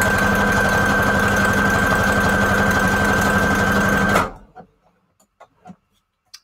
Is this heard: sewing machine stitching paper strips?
yes